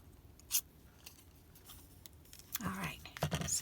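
Scissors cutting vellum paper in a few quick snips, a sharp isolated cut followed by a denser cluster of close, crisp crackling snips, with quiet speech nearby.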